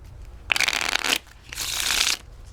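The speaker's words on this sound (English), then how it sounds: "Riffle shuffles very well." A deck of Bicycle bridge-size playing cards is riffle shuffled twice, each pass a dense, crisp flurry of fluttering card snaps lasting about half a second, close and clear with no talk.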